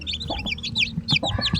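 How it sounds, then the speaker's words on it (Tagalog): Chicks being raised in a pen apart from the mother hen, with repeated high cheeping and clucking-like chirps that come in quick bursts, fairly close and continuous. "Ganyan tayo magpalaki ng sisiw."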